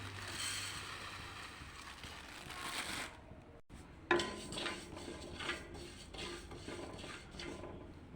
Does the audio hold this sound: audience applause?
no